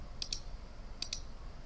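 Two quick pairs of soft computer mouse clicks sound faintly over steady background hiss while menu options are picked in a Google Docs equation menu.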